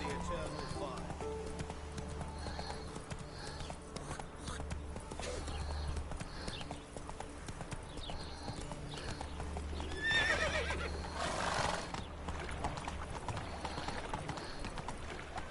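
Hooves of the horse Roach pound in a steady galloping clip-clop in The Witcher 3, with a neigh partway through, mixed with game ambience and someone talking over it.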